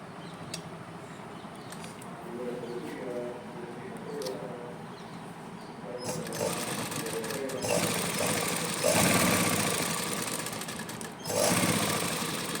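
A sewing machine stitches a pocket onto palazzo pants, starting softly with light taps and then running in a steady, louder mechanical whir for the second half, close by and with no speech.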